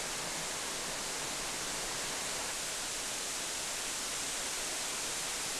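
Bisan waterfall in the deep, shaded Gunji valley of Nonsan pours in a constant, dense roar of falling water, broad and unbroken, with no voices.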